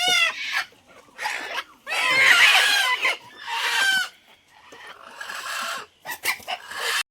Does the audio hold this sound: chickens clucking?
yes